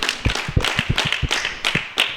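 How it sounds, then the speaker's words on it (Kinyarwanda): A church congregation claps hands together in an uneven burst of sharp, close slaps, several overlapping hands striking at irregular intervals for a couple of seconds. "Reka tumukomere amashyi."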